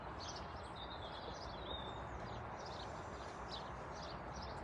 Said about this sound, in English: We're just listening to the birds.